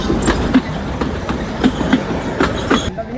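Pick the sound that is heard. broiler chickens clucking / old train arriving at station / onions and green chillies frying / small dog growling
old train arriving at station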